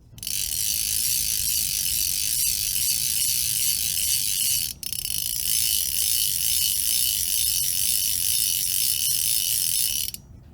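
Lamson Hyperspeed M8 fly reel drag giving off a fast, continuous ratcheting click as line is pulled, loud and close with a brief break midway and no talking.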